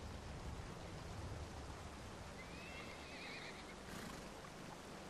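A horse whinnies once at mid-distance in the Lord of the Rings Online game at Helm's Deep, a short rising neigh over a constant hiss of ambient noise, with no talking.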